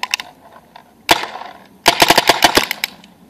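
A Spyder MR2 paintball marker fires in two bursts, a short volley of rapid sharp pops followed by a longer string of fast, loud, close shots, with quiet gaps between.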